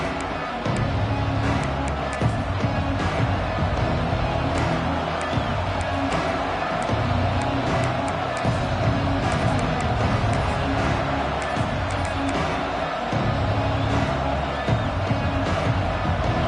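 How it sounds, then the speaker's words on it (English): Stadium crowd in the Madden American football video game cheering as a drive starts, a dense, loud, steady roar with scattered whoops under commentary. "This crowd ready to make its presence known."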